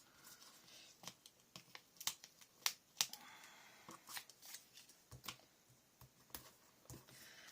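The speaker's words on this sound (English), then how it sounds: "I'm going to rip that paper. That paper is so easily ripped." Paper torn by hand for a scrapbook page, a series of short, sharp, faint rips and crinkles in irregular bursts, close by in a quiet room with no talk.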